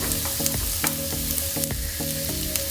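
Onion and garlic sautéing in a pan for penne arrabbiata, a steady close sizzle with rhythmic spoon or spatula knocks against the pan every half second or so.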